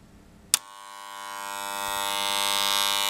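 A differential RCD breaker snaps with a click when its test button is pressed. A steady electrical buzz then builds and holds at close range, with a strong harmonic hum.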